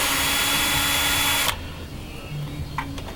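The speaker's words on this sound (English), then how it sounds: "No sense in wasting time when you can use a power tool" A power tool whirs loudly and steadily during a Corvair harmonic balancer and oil cooler replacement, then cuts off abruptly halfway, leaving quieter shop background with a few faint clicks.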